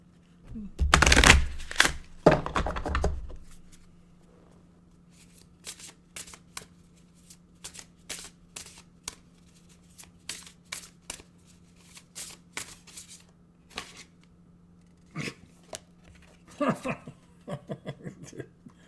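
Oracle cards are riffle-shuffled in two bursts at the start, then scattered soft card taps and flicks follow while the room otherwise stays quiet.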